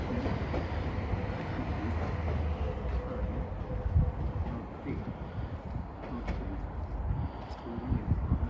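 A train pulls into Deganwy railway station in the evening, its broad continuous rumble and rail clatter filling the clip with a few louder knocks and wind buffeting the microphone.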